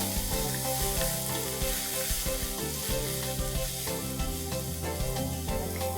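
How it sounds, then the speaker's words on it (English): Red chillies and finely chopped onions sautéing for palak paneer, giving a dense, constant sizzle and crackle with stirring scrapes throughout, close and even in level. "I'm going to saute this for a second and then I'm going to add 2 onions that I have finely chopped."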